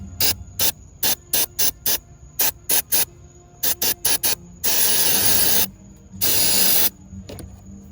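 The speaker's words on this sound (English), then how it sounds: "I'm gonna go ahead and spray it on and clean off this back side right here" Cleaner sprayed onto a back-side engine part of a C5 Corvette that won't start: a series of short sharp aerosol bursts in quick groups, then two longer sustained hissing sprays, close and loud.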